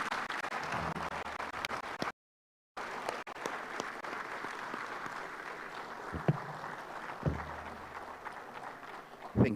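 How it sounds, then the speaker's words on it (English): Members of the Parliament of Malawi stand and give a visiting Speaker's delegation a round of applause, a steady, moderately distant wash of clapping in a large chamber, broken by a brief dropout, with a few sharper claps and thumps later on. "Let us all rise to give the Speaker and his entire delegation a round of applause"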